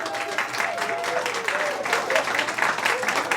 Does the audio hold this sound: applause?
yes